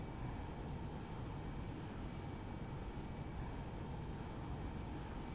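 A light aircraft taking off at Goodwood in the X-Plane 11 flight simulator game, giving a steady, continuous engine roar with broadband rumble at constant loudness throughout, no voices.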